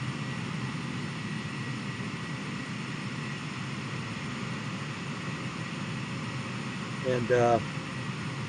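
Boeing 767 jet engines roar steadily in a flight simulator game, a constant broadband rumble running throughout, with a brief louder burst near the end and a voice speaking over it.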